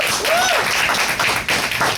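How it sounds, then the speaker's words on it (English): Live audience clapping and cheering for a long-together couple at a church event, dense steady applause filling the two seconds, with a whoop or whistle rising over it. "Can we give them a round of applause?"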